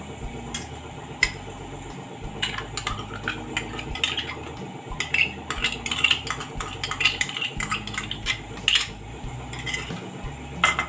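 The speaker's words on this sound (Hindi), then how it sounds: "दही डाल के आपको अच्छे से चलाना है इसे" Curd being stirred into masala in a pan for paneer butter masala, with repeated metallic scrapes and clinks of a spoon against the pan over a low sizzling bed, close and uneven.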